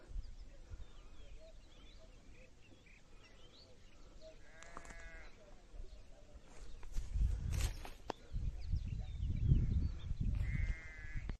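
Sheep bleat a few times at a distance amid outdoor ambience in the high hills above Xonobod, with shuffling footsteps and rustling growing louder toward the end.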